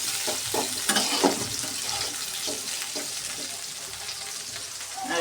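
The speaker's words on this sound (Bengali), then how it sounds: "সিম ভাজার মধ্যে একটু ধনিয়া পাতা দিয়ে দিলাম, আর একটু ভালোভাবে ভাজবো ধনিয়া পাতা সহ" Flat beans frying with coriander leaves in a pan give a steady close sizzle, with repeated scraping stirs and clinks from a utensil along the way.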